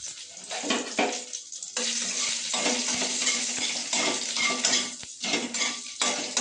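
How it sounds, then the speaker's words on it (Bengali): Green chilli, nigella seeds and bay leaf hit hot oil for a tempering in a singhi fish curry, bursting into a loud, dense sizzle with a few brief dips and clinks of a utensil against the pan. "এখানে আমি ফোড়ন হিসাবে দিয়ে দেবো একটা কাঁচা লঙ্কা, অল্প একটু কালো জিরে আর একটু তেজপাতা।"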